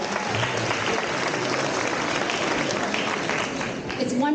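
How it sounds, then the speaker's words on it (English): A large crowd gives a sustained round of applause for eighth graders at a graduation ceremony, dense and steady throughout, with a voice briefly audible near the end. "One more big round of applause for the 8th graders."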